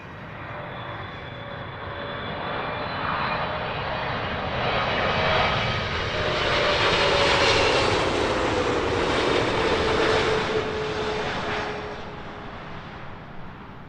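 A British Airways Boeing 777 arrives overhead, its jet engine roar swelling from a distant whine to a loud peak and then fading, with no talk.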